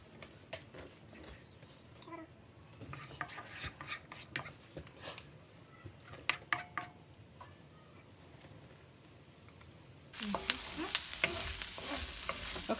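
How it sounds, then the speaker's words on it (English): Onions being added to a wok and stirred, with scattered scrapes and clinks over a quiet sizzle, then a much louder, fuller frying hiss taking over near the end, close up. "And then we'll add onions, a few onions to the wok."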